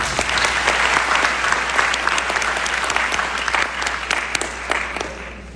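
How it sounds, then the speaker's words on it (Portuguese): Steady crowd applause for a speaker at a public human rights event in São Paulo, a dense wash of many hands clapping that holds for several seconds and tapers slightly at the end. "Uma salva de palmas para Davi Ruivo."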